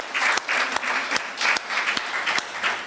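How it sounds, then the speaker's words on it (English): Session participants clap hands at a dialogue on women, land and heritage, a loud, close burst of applause that pulses in uneven waves for several seconds. "Can we clap hands for ourselves?"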